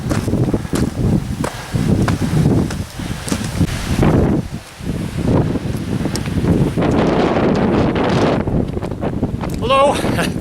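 Loud, constant wind buffeting the microphone on a steep wooded hillside walk at Coed Moel Famau, roaring and gusting throughout with brief lulls, a voice faintly mixed in near the end.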